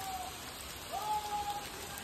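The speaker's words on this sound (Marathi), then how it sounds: "वरनं पाऊस चालू, खालून आम्ही चाललो" Rain falling in the Andharban jungle during a dark trek, a soft steady patter of drops on leaves and surfaces, fairly quiet, with a faint high tonal whine running through it.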